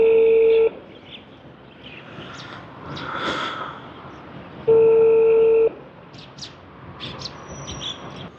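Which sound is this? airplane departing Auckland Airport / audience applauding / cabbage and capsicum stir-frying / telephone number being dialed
telephone number being dialed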